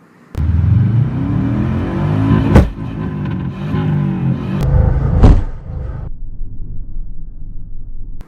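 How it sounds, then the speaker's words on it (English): A 2016 Subaru Legacy GT engine revving hard against the rev limiter, a loud close growl with rising and falling pitch sweeps and a few sharp cracks, settling into a lower idle-like rumble near the end. "I was popping off the rev limiter like you heard"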